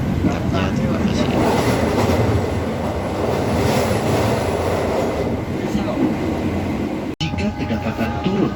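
Tawangalun passenger train running between Jember and Malang, heard from on board as a loud, steady rumble of wheels on rail with faint rhythmic clatter, briefly cut by a sharp click near the end, with voices present under the noise.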